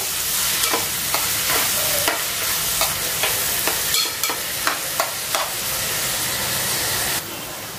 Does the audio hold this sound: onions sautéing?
yes